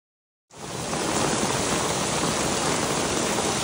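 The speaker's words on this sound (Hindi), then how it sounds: "आज झमाझम बारिश हो गई" A dense, steady roar of heavy monsoon rain in Mumbai starts abruptly and continues unbroken, loud and close, with no voices.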